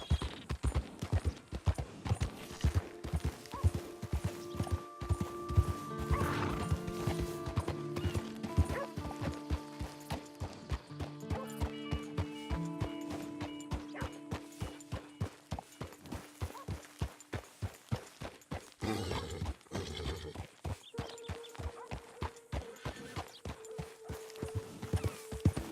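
Horse hooves clip-clop steadily as a horse-drawn wagon rolls along in Red Dead Redemption 2, a fast even beat of hoofbeats throughout, with a brief crash near the end, while music plays underneath.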